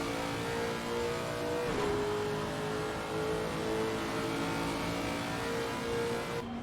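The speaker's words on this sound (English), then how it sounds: "As you can hear that traction control just getting very uppity and involved in that" Lexus GT4 race car on the Circuit of the Americas track, its engine droning steadily near at high revs with pitch shifts and a stuttering, uneven note as traction control cuts in, continuous with no talk.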